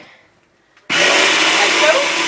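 A blender whirs into life after a brief quiet pause, blending yogurt, parsley and lemon zest with a loud, steady motor whine that holds to the end.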